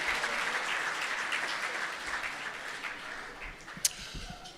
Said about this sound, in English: How about one big round of applause, and you'll see them all again, for the inductees of this beautiful class of Hall of Famers.